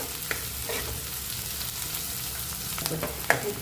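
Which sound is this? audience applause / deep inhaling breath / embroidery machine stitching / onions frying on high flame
onions frying on high flame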